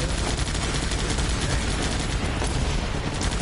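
Sniper rifles and other guns fire on a base in a video game, a dense, steady barrage of overlapping shots with booming impacts that fills the whole stretch at a constant loud level, with no voices.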